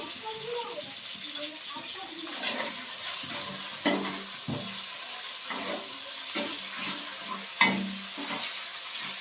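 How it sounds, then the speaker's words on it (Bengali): Spice masala frying in a pan with salt, a steady hiss of sizzling oil broken by repeated spatula scrapes and stirring knocks, with a louder clack near the end and a faint voice in the background. "মশলাটা খুব ভালো করে কষিয়ে নেব।"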